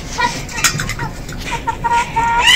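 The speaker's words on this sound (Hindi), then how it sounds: "अपने ये मुर्गे तो खुले छोड़ें, ये मुर्गे जो है ना ये इधर ही फिरते रहते हैं।" Free-roaming chickens and roosters cluck and call nearby at a zoo. Short squawks come over a busy background with some clattering.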